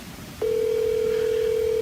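An outgoing mobile phone call gives a single continuous tone that starts abruptly after a short quiet stretch and holds steady and loud to the end.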